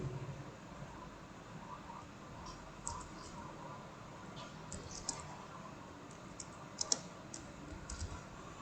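Keys clatter on a computer keyboard in faint, scattered bursts of light clicks over a steady background hiss, with no voices.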